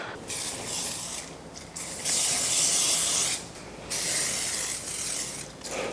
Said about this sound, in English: Just a light spray is enough.